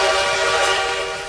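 Dramatized train approach on a railway line, a loud, steady broadband rush with a whistle-like tone, close and continuous throughout with no voices.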